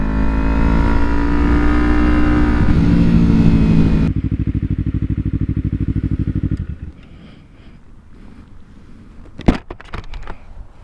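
A 2012 Kawasaki Ninja 250R revs hard and high, a loud, close engine roar holding steady, then dropping to a pulsing idle before fading into quieter clatter and a few knocks.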